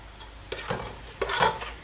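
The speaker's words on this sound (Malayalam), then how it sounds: "ഉള്ളി നന്നായിട്ട് ഒരു ലൈറ്റ് ബ്രൗൺ എങ്കിലാകണം" Onions with salt being stirred in a pan for a Travancore chicken curry: two short bursts of spoon-scraping stirs over a soft, steady sizzle, close and fairly quiet.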